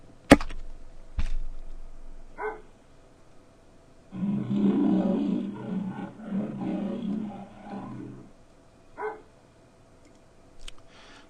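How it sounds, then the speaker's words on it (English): A bear roar sound effect rumbles for several seconds, deep and growling. Clicks and short knocks surround it in otherwise quiet space. "I'm going to select bear roar"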